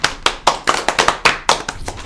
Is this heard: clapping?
yes